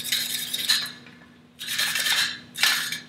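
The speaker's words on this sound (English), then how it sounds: "I'm going to stick my carrot in the back of the hopper and then just turn it" A carrot turned in a hopper slicer gives three bursts of bright, crisp scraping and slicing, each lasting about a second, close and fairly loud with short pauses between them.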